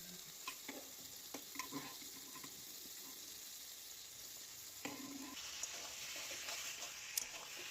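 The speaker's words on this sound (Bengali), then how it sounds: "সেইগুলো আমি একটু একটু করে ছেঁকে ছেঁকে তুলে দিয়ে দেবো ওই মশলার মধ্যে দিয়ে একসাথে আবার কষাবো" Pressure-cooked mutton pieces stir-fried in spice paste give a soft, steady sizzle with scattered clicks and scrapes of stirring, louder bursts near the end.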